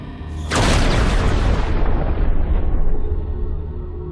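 A film scene from Urban Legend: a sudden loud explosion bursts in after a faint lead-in, then a heavy roaring rumble that slowly decays, with no voices over it.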